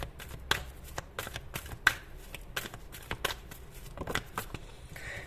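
Tarot cards shuffled and drawn by hand during a monthly horoscope reading make close, crisp riffling flutters and quick snapping flicks in irregular bursts, fairly quiet, with no speech.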